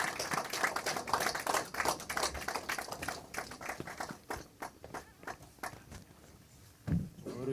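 Audience applause welcoming a Buddhist monk at a book-launch event for a political party leader, a dense patter of many hands clapping steadily for several seconds, then thinning out.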